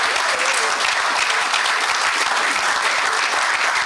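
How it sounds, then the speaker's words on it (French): A church congregation claps loudly and continuously, a dense, sustained burst of applause from many hands filling the space without pause, with no talking. "Acclamons très fort le Seigneur."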